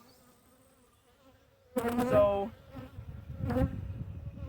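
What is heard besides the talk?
honey bees on hive frames during inspection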